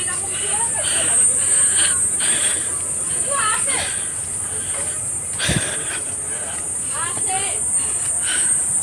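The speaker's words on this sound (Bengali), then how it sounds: "বাবা, ঝিঝি পোকার ডাক চারদিকে।" Dense, continuous cricket chirping fills the surrounding jungle at Khandagiri, a high steady insect drone with scattered rhythmic trills and faint background sounds.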